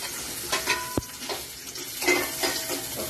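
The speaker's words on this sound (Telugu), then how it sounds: "ఒకసారి ఇలా వేయించుకోవాలి" Mango ginger fries in hot oil in a pan for a pickle, a soft steady sizzle broken by stirring scrapes and a sharp clink of a utensil against metal.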